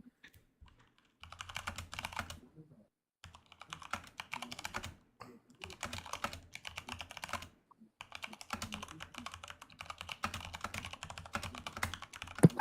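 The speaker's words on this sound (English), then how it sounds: "I can just hear the rapid fire typing." Rapid bursts of typing on a computer keyboard, close and fairly loud, coming in several quick runs separated by short pauses, with no talking.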